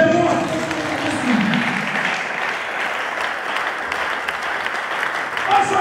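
Church congregation applauding and cheering during a French-language sermon, a sustained wash of clapping from a crowd with mixed voices underneath, steady in level throughout.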